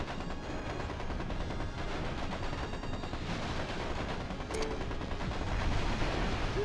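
Mech weapons fire rattles nonstop in MechCommander Gold, a dense barrage of rapid gunfire and explosive thuds forming a loud, continuous roar of battle noise with no talking over it.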